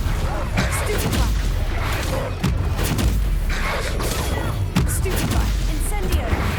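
Stupefy spells cast again and again in Hogwarts Legacy combat, giving dense, overlapping booms and thuds in a busy, loud battle mix, with a voice talking over it.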